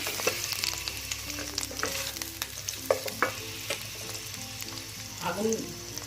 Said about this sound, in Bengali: তেলটা গরম হয়ে এসেছে, আমি এখন একটা মিডিয়াম সাইজের পেঁয়াজ দিলাম।